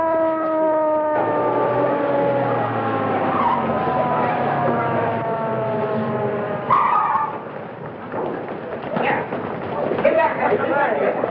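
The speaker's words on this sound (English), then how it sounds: "Ambulance coming?" An ambulance siren wails with a long, falling tone that winds down over several seconds, followed by traffic noise and voices talking.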